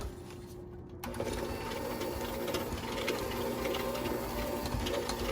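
Butter being mixed into Viennese whirls biscuit dough gives a steady, fairly loud mechanical whirring that kicks in after about a second and runs on without a break, with no voices.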